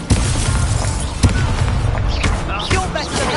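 An Incendio fire spell is cast in Hogwarts Legacy amid combat, with a sharp whoosh and booming bursts, a couple of loud impacts and crackling effects under an excited voice.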